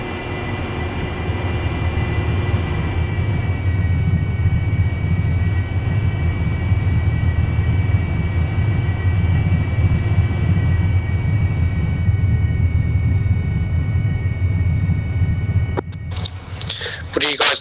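An AV-8 Harrier jet in the DCS flight simulator roars at steady high power with a droning engine whine for most of the span, then cuts to a brief noisy burst near the end, with voices in the background.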